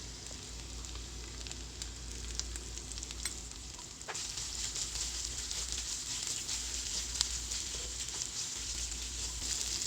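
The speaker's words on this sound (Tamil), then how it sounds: "எண்ணெய் ஓரளவுக்கு சூடாயிருச்சு. நம்ம வந்து க்யூப் ஷேப்பில் கட் பண்ணி எடுத்து வச்சுருக்கிற வெங்காயத்தை போட்டுக்கலாம்." Cubed onions sauté in hot oil in a pan, giving a steady, close sizzle and frying crackle that runs the full length, with occasional stirring scrapes and no talking.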